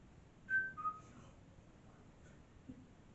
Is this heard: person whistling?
yes